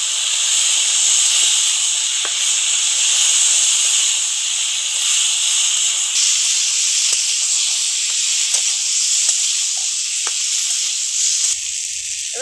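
Turmeric and chili powder sauté with spices in a hot pan for a Bengali pui stem and small-fish dish, giving a loud, unbroken hiss of sizzling that carries on alone without any voices.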